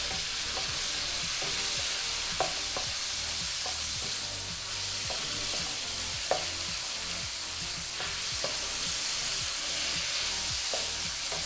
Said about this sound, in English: I'm just cooking it again with some onions, the sauce, and some water.